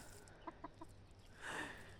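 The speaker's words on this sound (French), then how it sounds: "La poule Victoria." A few soft clucks from a hen come in a quick series, followed by a short, louder squawk, all quiet and at a little distance.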